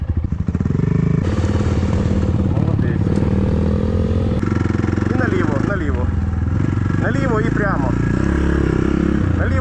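A KAYO TSD 110 enduro motorcycle engine runs loud and close without a break, with a rough, chattering drone and shifting revs, while a voice calls out over it.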